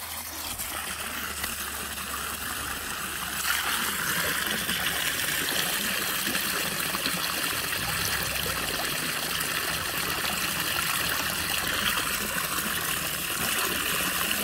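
Water from a 40 millimetre pipe flows steadily into a fish-farming pond on a small farm, a continuous close splashing trickle and gush with no voices.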